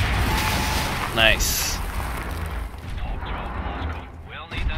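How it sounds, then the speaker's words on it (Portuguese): Grenade thrown and detonating in Wolfenstein: The New Order: a sharp burst rises above dense, rumbling battle noise and heavy low-end din, with a brief spoken word from a player. "Então deixa-me mandar uma granada."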